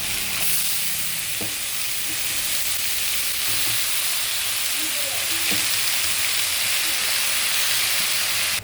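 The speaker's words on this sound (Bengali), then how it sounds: "এই যে আমি এবার পালং শাকগুলো ছেড়ে দিব" Spinach with green chillies fries in a pan, producing a loud, continuous steamy sizzle and hiss up close, broken by a few soft knocks of stirring.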